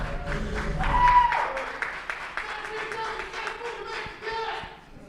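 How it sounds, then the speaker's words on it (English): A ground-floor crowd at a robot combat event claps and cheers to vote, swelling briefly and then thinning into scattered claps and shouts, with voices mixed in. "if you think Keystone Light won, give a cheer."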